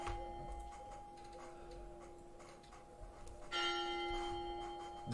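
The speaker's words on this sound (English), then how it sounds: "The town's church bells begin to ring." Town church bells ring at noon, a steady sustained metallic tone with a faint ticking texture that swells noticeably louder partway through, heard alone with no talk.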